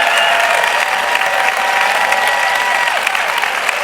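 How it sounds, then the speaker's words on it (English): A studio audience at a morning talk show applauds loudly and continuously, a dense, even wash of many hands with a few cheers, filling the whole stretch without a pause. "the applause is really good"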